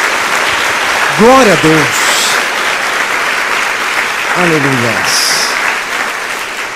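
A church congregation claps steadily and loudly throughout, with a preacher's voice calling out twice over the applause.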